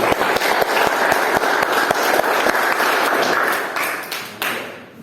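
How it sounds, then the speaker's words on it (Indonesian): A classroom of students claps for another group, a dense burst of many hands that stays steady and then gradually fades out toward the end. "silakan berikan aplaus kepada kelompok yang lain"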